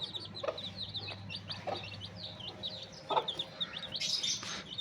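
Aseel hen clucking softly beside her newly hatched chicks, their thin high peeps chirping repeatedly above a low steady background, close and moderately quiet, with a brief louder flurry of chick calls near the end.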